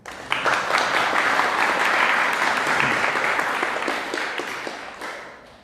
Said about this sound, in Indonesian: Tepuk tangan buat Ustaz Harun.